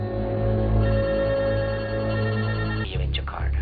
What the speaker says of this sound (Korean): 그때 걸려온 리의 전화